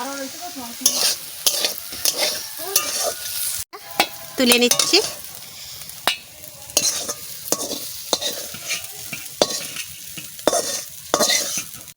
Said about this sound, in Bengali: ঘরে দুধমান কচুর ডাগা ভাজা করছি